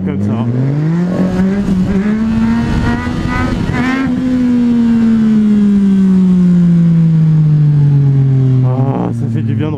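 Supermoto motorcycle engine on a beach, holding a loud, steady drone with the pitch rising, falling and climbing again, then slowly easing down over nearly ten seconds as the bike rides on.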